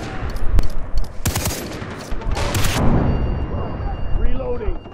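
Loud gunfire in the video game Far Cry 3, with several sharp shots and short bursts in the first few seconds, then a rumbling firefight continuing beneath a voice speaking.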